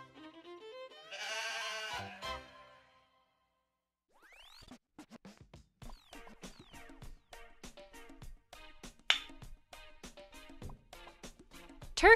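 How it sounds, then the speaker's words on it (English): Goat bleats in a children's farm-animal song, a wavering tonal cry followed by a run of sharp clicks and scratchy hits, moderately loud and alone without talk. "Goat."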